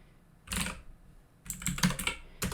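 Someone types on a computer keyboard in a quiet room. There is a short burst of close keystrokes, a pause, then a longer run of quick clicking taps.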